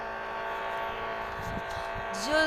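Car engine droning steadily in a driving simulator video game, with a rising pitch sweep near the end as it accelerates, under game music and background voices.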